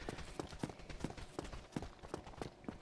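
Footsteps in Dark Souls Remastered, a video game: a steady run of soft thuds at a walking pace, about one every third of a second, with no talk over them.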